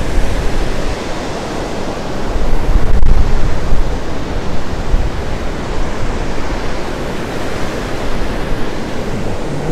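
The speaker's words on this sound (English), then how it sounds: "These waves are pretty good waves out here today." Gulf of Mexico surf rolls onto the beach at Mustang Island State Park on the Texas coast: a loud, continuous wash of breaking waves, swelling around the third second, mixed with buffeting wind noise on the microphone and no talking.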